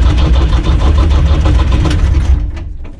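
A UTB 445 DT 4x4 tractor engine cranking on a weak, undercharged battery, a loud labored mechanical churn that runs unsteadily for over two seconds, then sags and dies away without catching.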